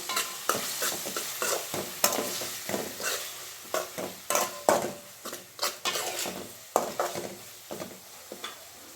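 Tomatoes fry in oil for an egg pasta masala while a spoon repeatedly stirs and scrapes the pan, giving rhythmic scraping strokes over a constant close sizzle, with no talk.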